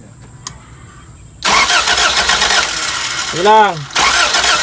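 A car engine cranks and catches without any throttle, starting rough and then settling into a loud, steady idle, with people talking nearby and a brief squealing whine partway through.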